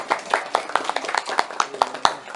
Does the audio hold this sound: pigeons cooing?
no